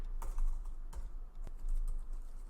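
Quick, uneven keystrokes clatter on a computer keyboard, close and fairly soft, in a short burst of taps with brief pauses between them, no voices.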